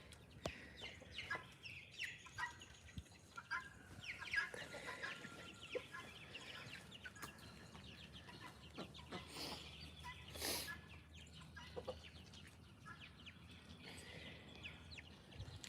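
Free-range chickens, including a young rooster, clucking and murmuring nearby, with scattered soft clucks and a few louder calls over a quiet outdoor background.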